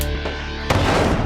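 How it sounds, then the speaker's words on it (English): An ANFO explosive charge detonates outdoors in a blast-wave test, a sudden loud broadband boom that bursts in about halfway through and roars on with rumbling wash, following a steadier noisy stretch. "The cannon triggered. The ANFO went off"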